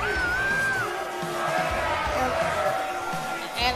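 A virtual NXT wrestling crowd at Full Sail in WWE 2K Universe Mode keeps up a steady roar of murmuring, yells and whoops, with a commentator talking over the arena noise throughout.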